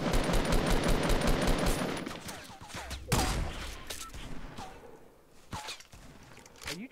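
Video game SMG fire in rapid, sharp bursts that start dense and loud, then thin into scattered shots and clicks further off, with brief talk.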